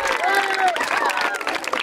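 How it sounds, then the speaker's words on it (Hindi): A school Children's Day crowd breaks into a short burst of loud applause, with cheering voices mixed into the clapping throughout. "एक बार तालियां बजा दो जोरदार।"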